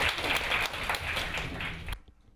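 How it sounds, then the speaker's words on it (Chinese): An audience at a chemistry institute lecture breaks into warm, full applause to welcome the speaker, many hands clapping steadily before the sound cuts off sharply into near silence. "我们以最热烈的掌声来欢迎陈博士来讲彩色世界"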